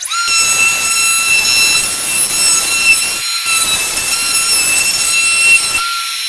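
A router cutting a circle through wood, lowered about an eighth of an inch per pass: a loud, sustained high-pitched motor whine over rough cutting noise, briefly dipping twice before resuming.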